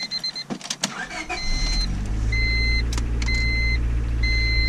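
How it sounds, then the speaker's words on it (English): A car engine with a newly installed fuel pump kill switch cranks briefly and catches, then settles into a steady idle hum, with repeated electronic dashboard chimes beeping over it. "Start the car."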